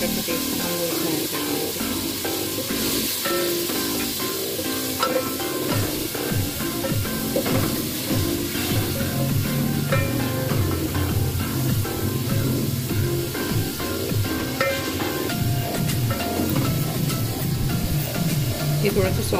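Garlic paste sautéing in oil with chicken in a pan, a continuous dense sizzle and crackle, close and fairly loud, with stirring scrapes throughout and no clear speech.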